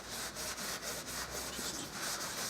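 Steady close-up rubbing of lemon oil into a rosewood guitar fretboard by hand near the upper frets, a soft continuous swishing with faint regular strokes and no talking.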